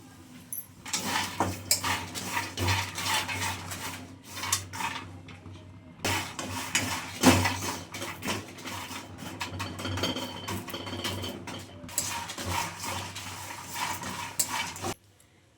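Brinjal masala frying in hot oil in a pan with steady stirring and clinks of a utensil against the pan, continuous sizzle-like clatter throughout with a short pause midway, close and moderately loud, no talking.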